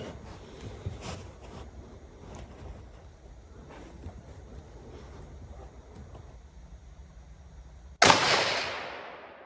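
A single sharp, loud rifle shot from a Browning X-Bolt in 6.5 Creedmoor being sighted in at a range rings out near the end, after a stretch of quiet outdoor ambience with light wind, and decays quickly.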